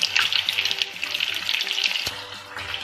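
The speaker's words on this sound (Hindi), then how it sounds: "थोड़े पकने के बाद इसको अच्छे से फ्राई होने दीजिए" Chicken pieces for chilli chicken crackle and hiss vigorously as they deep fry in hot oil, a dense, close, continuous bubbling sizzle with small pops throughout.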